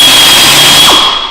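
Power drill boring through an aircraft door panel during a Fleet Canuck restoration, a steady high-pitched whine held loud for just over a second before tapering off.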